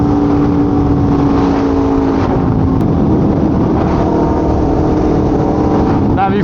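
A superbike's engine drones loudly and steadily throughout, close and wind-buffeted, with a rising whine near the end as it accelerates.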